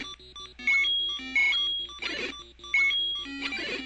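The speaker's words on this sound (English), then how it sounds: "At least it stops the beeping" Low-health warning in The Legend of Zelda, a shrill electronic beep repeating at a steady rhythm over chiptune music and game sound effects.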